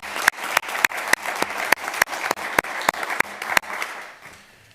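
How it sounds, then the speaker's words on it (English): Applause at an Edina city council meeting: a roomful of people clapping steadily, with sharp individual claps standing out in a regular rhythm, fading away at the end. "Another round of applause."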